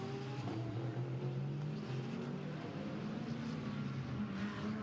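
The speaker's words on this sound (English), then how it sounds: "Alessio Picariello's Porsche, which was damaged when Antares Al had an off earlier on in the race, goes by." A damaged Porsche GT race car passes during the Spa 24 Hours endurance race, its engine a steady distant drone with a gently rising and falling pitch, fairly faint and continuous throughout.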